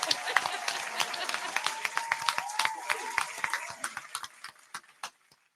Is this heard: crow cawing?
no